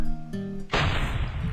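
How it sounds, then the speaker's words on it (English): A hollow-toned hum gives way to a sudden heavy blast in the fantasy video game Nehrim, followed by a loud, sustained crackling roar that continues without fading. "The explosions are kind of cool to listen to"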